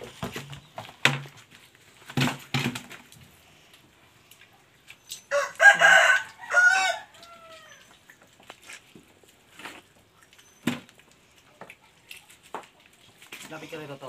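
A rooster crows and chickens cluck on a farm with goats, heard close amid scattered sounds, while people talk in a Filipino language.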